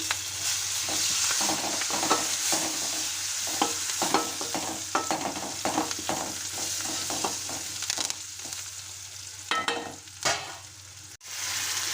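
Dried red chilies, curry leaves and onion frying in a pan, a loud continuous sizzle broken by repeated scraping stirs and clinks of a spatula, with no voices.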